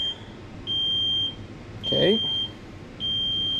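An ANCEL HD110 heavy truck code reader gives out repeated long, steady electronic beeps in a regular on-off pattern, loud and close, with a short spoken word heard in one gap.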